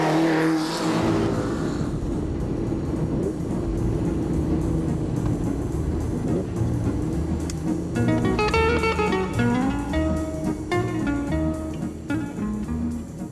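Rally cars from the 1992 Tour Auto (Tour de France Automobile) run at high revs, a loud continuous engine roar close by with shifting pitch as cars accelerate and pass, and tonal whines rising and falling in the second half.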